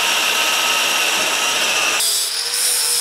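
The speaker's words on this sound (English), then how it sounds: "Drilling the holes," A power drill bores holes through metal steering brackets for a Super 7 Locost kit car build, a steady loud whine that shifts pitch near the end as the bit cuts through.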